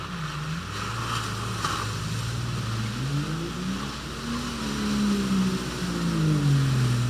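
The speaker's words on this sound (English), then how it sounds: "Phil Smith's TJ comes up a bit short in the mud pit" Phil Smith's Jeep TJ, fitted with 410 gears and Lock-Right lockers in both differentials, pushes through a deep mud pit at an off-road truck challenge, its engine droning steadily and rising in revs as it labors, loud and continuous with no talk.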